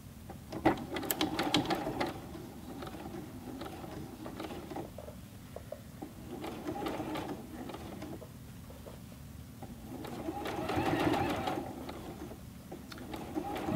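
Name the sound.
Juki G210 sewing machine sewing a denim jeans leg hem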